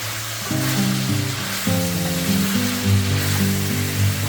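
Ribs sizzle and fry in a wok as they are tossed with ginger slices and spices, a steady loud hiss set against sustained tonal sounds throughout.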